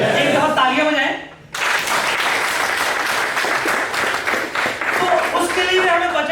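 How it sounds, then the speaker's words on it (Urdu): Loud applause from an audience at a business briefing and plans presentation in Attock, breaking out after a short pause and continuing as dense, sustained clapping to the end, with some speech heard over it at the start. "ایک دفعہ تالیاں بجائیں"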